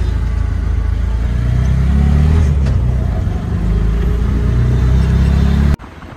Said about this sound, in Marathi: चलो रिक्षात बसलोय, निघालोय.